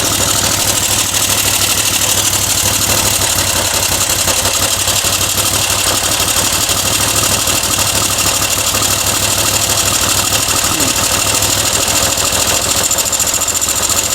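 A freshly revived Moto Guzzi motorcycle engine idles steadily and loudly close by, running a bit smoky, with an even, continuous throb throughout.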